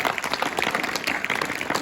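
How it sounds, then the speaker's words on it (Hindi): A crowd applauds steadily, dense clapping at a fairly even level throughout. "तो रवीना जो कक्षा 12 थे उसके लिए भी जोरदार तालियां बजाओ बेटा"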